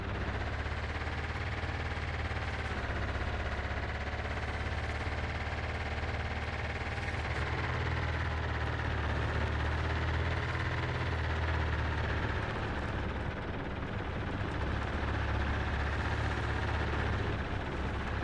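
A heavy engine in No Man's Sky drones steadily throughout, a low rumbling, tank-like roar with a slowly wavering pitch and no pauses, loud and continuous with no talk over it.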